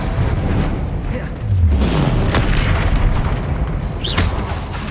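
A Bombarda spell explosion in Hogwarts Legacy lands as a deep booming blast amid dense, continuous spell-combat noise, with swooshing casts and a rising whoosh near the end.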